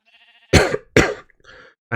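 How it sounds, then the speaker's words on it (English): Two sharp, harsh throat-clearing coughs come close together, followed by a short grunt. "clearing my throat, goodness."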